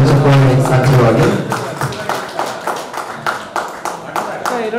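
An audience at a book release and felicitation function claps after a voice over a loudspeaker finishes speaking. The clapping comes as a run of fairly loud, separate, rhythmic claps, fairly close.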